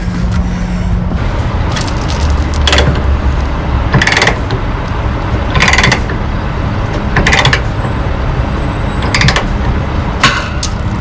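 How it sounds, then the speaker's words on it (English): A winch bar levers a stubborn load binder tight on a truck, giving repeated ratcheting clanks and creaks in bursts about every one to two seconds, close and loud, with no talking. "Little trick when you have a binder that doesn't want to cooperate. You can use your winch bar."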